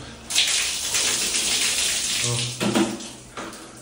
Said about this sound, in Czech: takže mám tady takovýhle kýbl, takhle se sprchuju.